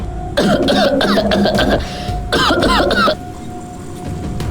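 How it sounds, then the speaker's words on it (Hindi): An old man coughs and clears his throat in two loud, harsh bursts close by, with a steady low hum underneath and a short pause between the bursts. "तभी दादाजी खांसने लगे।"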